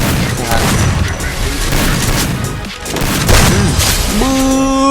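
Loud rapid gunfire and explosive booms fill a mobile shooter game match in ranked play, with dense overlapping shots and crashes, a dip in the middle, and rising tonal game sounds toward the end.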